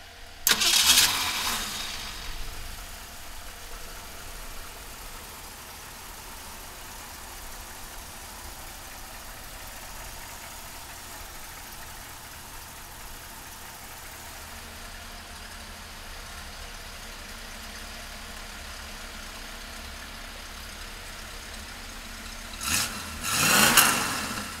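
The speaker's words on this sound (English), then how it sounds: "let's fire this Mustang up" A 1965 Ford Mustang convertible cranks and catches with a loud burst, settles into a long, steady, fairly quiet idle, then revs sharply near the end.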